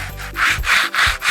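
Sandpaper rubs by hand across a wooden surfboard outdoors in rhythmic back-and-forth strokes, a close dry rasping that swells and fades with each pass and no voices.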